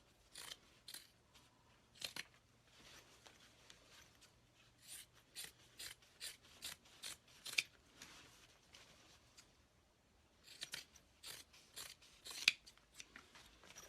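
Scissors trim excess fabric at a sewing table beside a Juki 2000 machine, with a quick series of close, crisp snips in bursts and short pauses between them.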